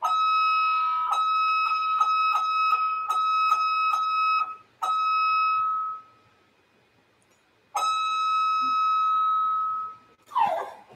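A high-pitched tone pulses in rapid beeps and longer sustained notes with bright harmonics, stopping briefly between bursts. Fairly loud with no voices, ending with a brief falling chirp.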